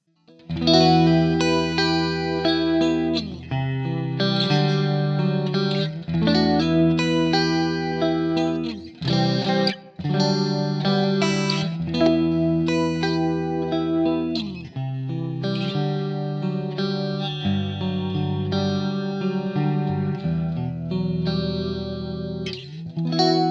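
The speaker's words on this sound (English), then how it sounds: "That's my kind of chorus sound" Electric guitar through a Blackstar St James amp plugin, drenched in a slow, deep, wide chorus effect, strummed chords ringing continuously with a shimmering, wavering tone, loud and up close, no voices.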